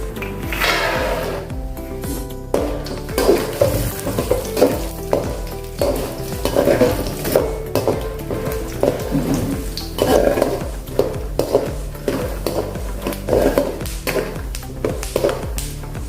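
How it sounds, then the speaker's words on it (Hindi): Steady sizzling and crackling of peanuts frying in a pan, with frequent scraping and stirring clatters throughout, close and loud. "तो पहले हम फली भुनेंगे।"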